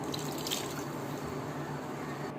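Strained tamarind water poured into a pan of simmering curry, a loud, steady rushing splash that runs unbroken for a couple of seconds.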